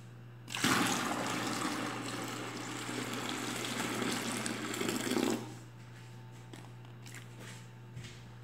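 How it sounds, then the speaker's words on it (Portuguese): A litre of hot water poured into a container while making homemade fabric softener, a steady splashing gush lasting about five seconds, close and moderately loud, then quiet. "eu vou acrescentar agora mais 1 litro de água quente"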